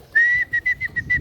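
A loft keeper calling his pigeons down with a close, piercing whistle, one sustained note followed by four or five short clipped bursts in quick succession against quiet outdoor ambience.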